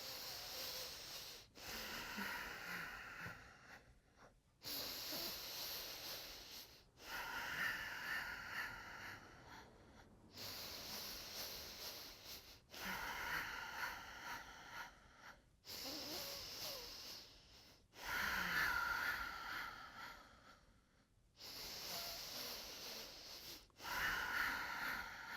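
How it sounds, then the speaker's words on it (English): Slow, steady cycles of breathing in and out through the nose during a Pilates Hundred exercise, each breath a close, airy hiss lasting a few seconds with short pauses between, rising and falling in a regular rhythm with no talk. "I'm going to try breathing in and out through my nose now."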